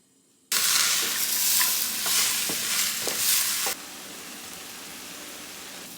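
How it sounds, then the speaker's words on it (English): Chopped onion and spring onion hit a hot pot for a carrot soup and sizzle loudly for about three seconds, with a few stirring scrapes, then settle into a quieter steady frying hiss. "Sufficiently sauteing those vegetables makes a huge difference in flavor"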